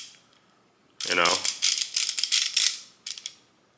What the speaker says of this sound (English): if I were to pick up this ratchet here, sorry, so this is a 90 tooth. A little bit louder,